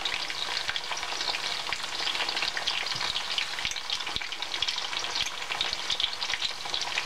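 Sweet potato fries cook in a pan with a dense, continuous crackling sizzle full of rapid pops, close and steady throughout.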